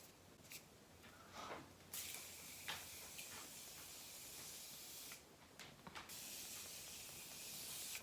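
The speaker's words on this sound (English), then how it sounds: "So I'm gonna go ahead and spray my face with this." Makeup setting spray misted onto a face: several short hissing bursts from a pump bottle, close and fairly quiet, with brief pauses between sprays and no talk.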